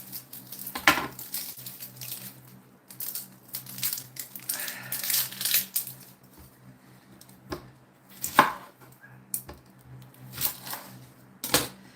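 Vegetables chopped on a board for broth, irregular bursts of knife strokes with clusters of sharp thuds and crunchy cuts, some pauses between, close and moderately loud, no talking.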